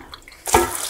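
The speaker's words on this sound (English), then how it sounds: "So I'm going to give them a rinse before I put them in the" Fabric rinsed under running water after tannin mordanting, before an alum bath; a quiet pause, then a sudden steady gush of flowing water splashing close by for the rest of the moment.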